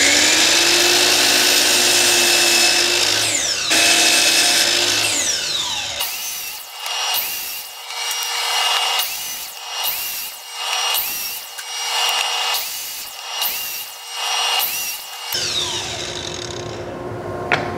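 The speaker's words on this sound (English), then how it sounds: "we need to cut these slats down to 21¼ inches long" A power saw cuts wooden slats for a folding table, a loud whining motor with a series of about eight short, repeated cuts in a steady rhythm, heard close up and without talk.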